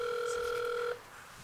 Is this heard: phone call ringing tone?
yes